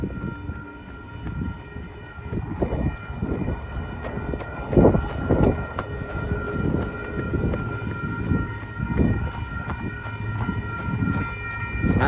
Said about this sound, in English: we've got a train on the way.